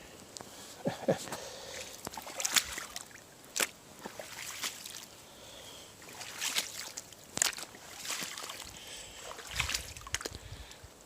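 Footsteps slosh and squelch through cold mud and water on a hiking trail, a dozen or so uneven wet splashes close by, each followed by faint trickling.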